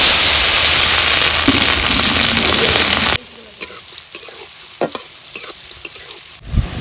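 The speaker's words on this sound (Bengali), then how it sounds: "এবারে দিদা সবজিগুলোকে ভেজে নেবে। তেলটা গরম হয়ে গেছে," Carrots and other chopped vegetables hit hot oil in a loud, steady sizzle for about three seconds, then fall to quiet clinks and stirring scrapes in the pan.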